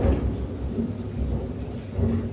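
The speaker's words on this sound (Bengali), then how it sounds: "দেখো এখন কি জোরে বাজ পড়ছে, খুব বৃষ্টি হচ্ছে" Loud thunder rumbles deep and continuous through heavy, steady rain, with a couple of swells in the roll and no voices.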